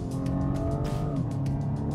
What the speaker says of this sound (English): this turn of speed is also accompanied by a very, very aggressive engine noise